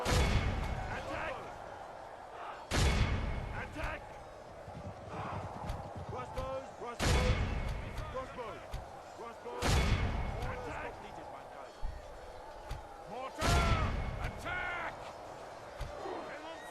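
Cannon artillery fire in the Medieval 2 Call of Warhammer game, The Empire campaign, with a volley of cannons firing on a battlefield: four loud, sharp booms spaced a few seconds apart over battle noise, with a voice talking throughout.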